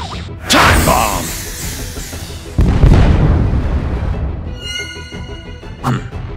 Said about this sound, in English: Time bomb!